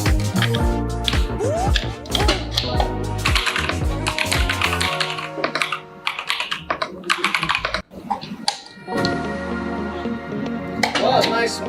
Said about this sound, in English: Something satisfying about the keyboard click